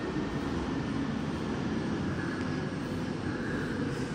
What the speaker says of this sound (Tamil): ஃப்ளைட் போகிற சவுண்ட் அப்படியே கேட்கலாம்.